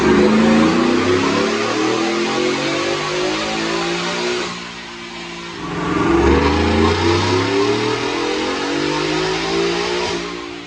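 Supercharged 2019 Ford F-150 with a 5.0 V8 and Whipple Stage 1 blower at 9 pounds of boost, on a dyno: loud engine roars rising in pitch through the gears, a brief lift around the middle, then a second hard climbing pull.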